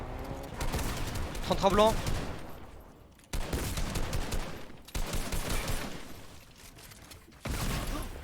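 Video game gunfire from a competitive cash cup match, bursts of shots and rapid fire in several loud segments separated by abrupt cuts, with a player talking over them.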